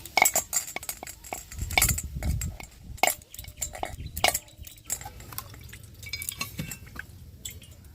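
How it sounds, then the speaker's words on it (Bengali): A coconut is cracked open over a bowl in a kitchen while making vapa pitha: sharp knocks and clinks come in irregular bursts, with dripping and splashing liquid between them, fairly quiet and close. "গামলির ওপর আমি ফাটিয়ে নেব নারকেলটাকে।"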